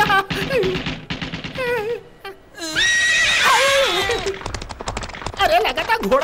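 Horses neigh and whinny loudly over a busy action-film soundtrack in a Hindi-dubbed South Indian movie, with hooves clopping faintly beneath several drawn-out whinnies across the scene.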